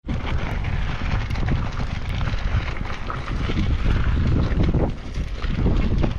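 Steady, loud wind rumbling against the microphone, a dense low roar lasting throughout with slight swells in strength.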